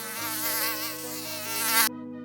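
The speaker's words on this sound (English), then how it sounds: "Mosquito. Mosquitoes bite and suck blood." A mosquito's buzzing drone hums steadily and close for about two seconds, wavering slightly in pitch and swelling near the end before cutting off abruptly.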